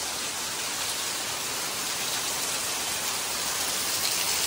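Heavy monsoon rain pours steadily in Konkan, Maharashtra, a dense, unbroken hiss of downpour striking surfaces, close and constant throughout with no voices.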